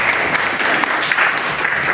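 Audience applause at a medical student debate on abortion, a dense, steady clapping that fills the hall at close range for about two seconds, with no speech over it.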